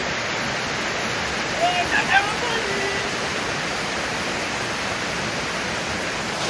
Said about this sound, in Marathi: इथे धबधबा आहे मस्त